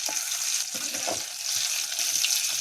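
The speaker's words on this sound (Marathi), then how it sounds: "मिरच्या ह्या पलटी करीत राहायच्या म्हणजे दोन्ही साईड ह्या चांगल्या तळून निघतील तेलामध्ये" Green chilies stuffed with Bombay duck frying in oil give a steady, loud, close hiss and sizzle throughout, with faint stirring movements underneath.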